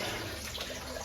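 Steady running water with a broad wash of splashing, like a tap flowing over dishes in a sink, close and continuous.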